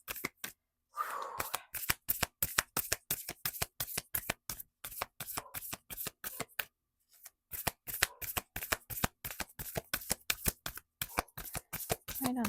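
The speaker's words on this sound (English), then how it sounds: "let's shuffle in here and warm this baby up." A deck of tarot cards being shuffled repeatedly, a fast run of crisp riffling clicks with a couple of short pauses, close and clear.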